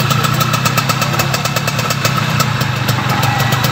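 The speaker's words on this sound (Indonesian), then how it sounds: "Coba gas pelan-pelan ya Pak Kecerut." A Suzuki F1ZR two-stroke motorcycle runs with its regulator rectifier disconnected, revved gently. The engine gives a steady, fast, close buzzing putter at an even pace, with no talking.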